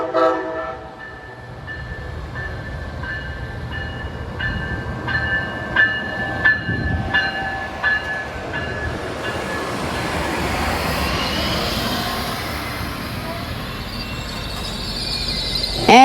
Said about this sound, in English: Here is PO41 pulling in from Tampa.